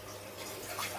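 Water poured or running in a home kitchen while cooking, a soft, faint steady trickle lasting about a second with no talk.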